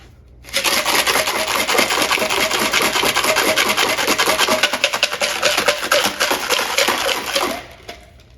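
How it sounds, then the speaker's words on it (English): Lacquer thinner and parts sloshing and rattling inside a closed transmission pan from a 1959 Buick Invicta, shaken hard in a fast, rough rhythm for about seven seconds, loud and close. "Throw some lacquer thinner in, close her up, shake the hell out of it."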